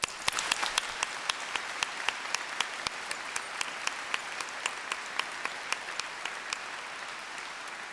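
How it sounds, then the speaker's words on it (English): A steady round of applause rises from the audience at a university graduation ceremony, fairly soft and distant, with sharp individual claps standing out against the continuous patter. "Please join me in giving a huge round of applause to everyone here today."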